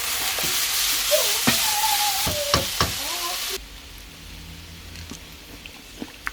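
Eggplant stir-fries in a pan with seasoning and fish sauce, giving a loud, steady sizzle broken by sharp utensil taps and scrapes before it cuts to a much quieter background with a few faint clicks.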